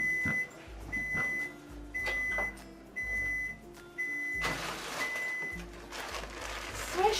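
A microwave oven heats ramen noodles, giving a low steady hum broken by regular beeps at about one-second intervals, then a louder rattling stretch before the hum resumes.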